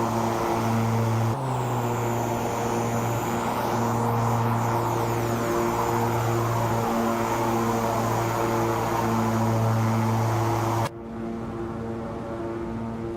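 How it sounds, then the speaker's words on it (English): A King Air 350 turboprop climbs in the X-Plane 12 flight simulator, giving a loud, steady engine drone with a rising whine layered over it that cuts off abruptly near the end. "A joy to hand fly this AirfoilLabs King Air 350 for XPlane 12."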